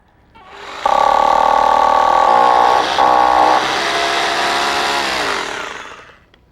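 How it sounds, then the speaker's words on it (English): A power drill bores a hole into a beam to set an expanding net bolt, a loud steady motor whine with a brief dip midway that keeps running and then tapers off, with no voices. "we're going to drill our hole and put in an expanding net bolt into the far corner."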